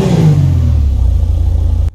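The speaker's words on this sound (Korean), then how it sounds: "자, 다음에는 엔진 소리 한번 들어볼게요." A Vapid Stanier, a large sedan with an I4 engine, revs up in GTA 5, giving a steady loud low drone that cuts off abruptly at the end.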